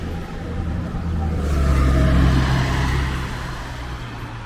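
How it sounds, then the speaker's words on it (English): A car on a South Brooklyn street in Dyker Heights rolls down a hill and away, its engine and tire noise swelling to a broad rumble mid-clip and then fading as it recedes, with no talk. "You see that car, the way it just goes down the hill and disappears?"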